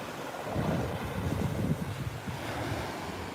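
Ocean surf rolls in at Fort Lauderdale Beach, a steady broad wash of breaking waves mixed with wind rumble on the microphone, continuous and fairly loud without voices.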